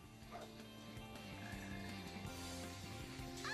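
Frogs croak in the Sonic Heroes video game, a quiet, repeated ribbiting that runs steadily through the short stretch with no talking.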